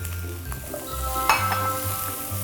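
Spring onion, onion and paprika stirred and frying in a little oil, a steady soft sizzle with scraping utensil strokes and occasional clinks of metal against the pan, close up with no talking.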